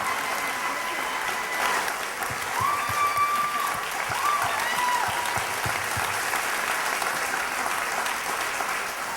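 An audience at the Miss Minnesota Pageant 2009 applauds an award winner, a steady wash of many hands clapping at moderate distance for several seconds, with a faint tone drifting through the middle.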